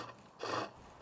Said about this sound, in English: So next we're going to use a flat chisel. And this chisel we use to just make the billet nice and smooth.